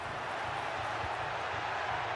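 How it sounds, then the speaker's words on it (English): A simulated stadium crowd in a cyber football match roars as a steady, dense wash of noise at moderate level, unbroken and even throughout. "The crowd are certainly playing their part."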